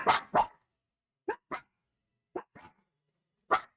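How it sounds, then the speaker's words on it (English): A neighbor's dog barking outdoors, a few sharp barks in loose pairs separated by silence, moderately loud and clear, with no voices. "the next door neighbor's dog is out there barking"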